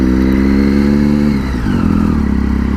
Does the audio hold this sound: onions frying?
no